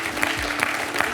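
An audience on a French TV quiz show applauds a contestant, a steady wash of clapping heard close and continuous throughout.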